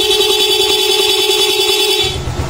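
A loud, steady electric horn on a Suzuki Smash motorcycle blares continuously for about two seconds, a bright two-tone honk, then cuts off leaving low engine rumble.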